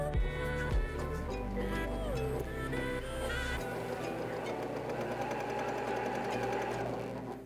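Close up, a sewing machine stitches a quarter-inch seam on bias-waist palazzo pants in a fast, steady mechanical chatter that runs without a break.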